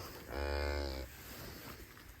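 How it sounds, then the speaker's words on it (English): Riggit Galloway cow lowing once, a single loud, close moo lasting under a second, followed by quiet outdoor background. "Rigget Galloway cow and calf."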